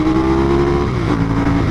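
A 1998 Ducati 916 SPS motorcycle engine heard while riding, a loud, steady, close-up droning roar at sustained revs with a slight pitch shift midway.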